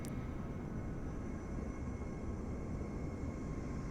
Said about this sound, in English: I can hear an airplane somewhere.